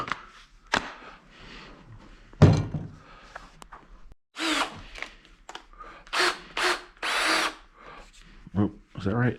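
A power drill backs screws out, a close series of short whirring bursts of varying length separated by quiet gaps, with some rubbing and handling noise between them.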